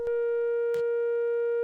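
A modular synth's oscillator B sine wave, self-patched into oscillator A's wavefolder input on an Instruō module, rings as a steady pure tone with faint harmonics for the whole stretch, broken by two brief patching clicks.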